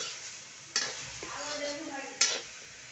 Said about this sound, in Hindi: अब हम लोग जो सोयाबीन बड़ी और अंडा मिक्स किए हैं उसको डाल लेते हैं कढ़ाई में भूनने के लिए